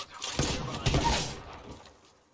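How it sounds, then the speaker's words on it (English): A short volley of gunfire from the Apex Legends battle royale game, playing as Pathfinder, cracks out quietly, then fades away within a couple of seconds. "Shots fired and they're hitting me."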